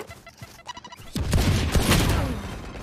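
Grenade blast in the Valorant shooter game: a sudden loud, broad boom about a second in, followed by rumbling debris and scattered gunfire under it, after lighter clicks and footsteps.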